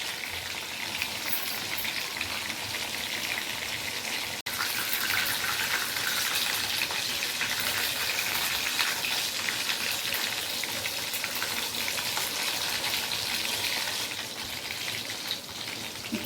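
Pieces of dragon chicken deep-frying in hot oil, a loud, even bubbling sizzle sustained for the whole stretch with one brief knock partway through and no talk.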